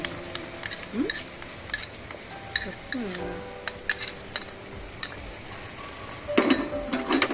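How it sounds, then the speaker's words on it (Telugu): Ginger garlic paste frying in a pan gives a faint sizzle while a spoon stirs and scrapes, with scattered metallic clinks and taps against the pan up close and brief talking through it. "ఇది కూడా ఒక 2-3 మినిట్స్ ఫ్రై చేసుకున్నాం."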